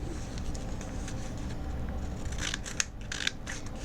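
Paper being cut out with scissors while making a template for a mini sketchbook: soft repeated snips and crisp crunches, a couple of sharper clicks near the end, close and quiet over a steady background hiss.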